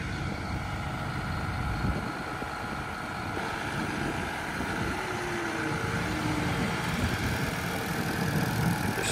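A tractor engine drones on steadily during field spraying, loud and unbroken with a low rumble and a broad hiss for the whole stretch. There is no talk.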